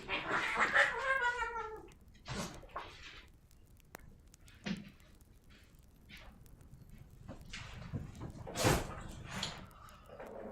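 A cat meows several times at close range, a drawn-out wailing call first, then shorter meows and faint shuffling noises in a quiet room.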